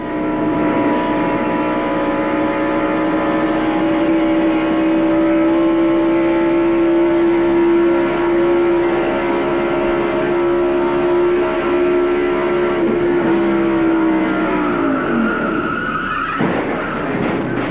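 In-car sound from Mark Martin's stock car at speed during the 1994 Winston Select at Charlotte Motor Speedway: a loud, sustained engine drone holding one steady pitch for many seconds, then dropping sharply near the end.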